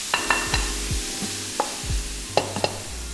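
Pork belly browning in a frying pan for Thai basil pork, tossed with light sizzling under several distinct scrapes and clatters of the pan in an irregular rhythm, close and moderately loud, with no talking.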